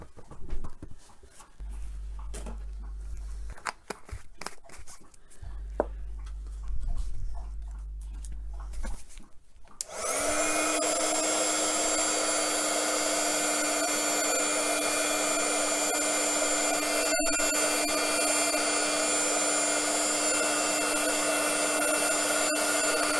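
Quiet tapping and handling sounds with a faint dog whimper come first, then a hair dryer switches on and blows loudly and steadily, drying paint on a book.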